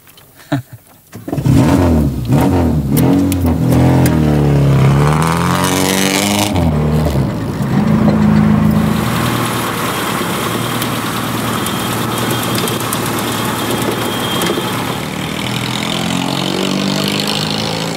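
Tuned competition-style car engine fires up and revs loudly, its note rising and falling as it drives off, then settling into a steady, rough, close drone.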